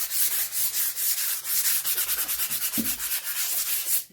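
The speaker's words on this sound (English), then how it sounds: "we will go back again with the sandpaper" Sandpaper rubs back and forth over a dry-brushed Dollar Tree fall craft piece, a steady run of close, rhythmic scratchy strokes with no talking.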